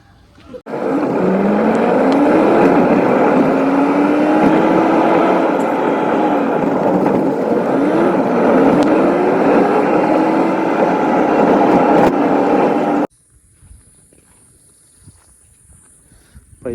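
A car driving toward a farmhouse on a picnic trip, its steady engine hum and road noise loud for about twelve seconds before cutting off abruptly into quiet.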